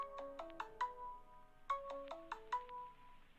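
Mobile phone ringtone playing two quick rising melodic phrases of bright chiming notes, fairly quiet and with no talk over it.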